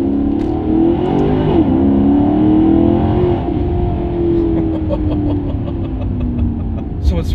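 A Maserati GranTurismo MC at three-quarter throttle on a rough road, its engine rising in a loud, smooth climbing note from inside the car before settling into a steady cruise.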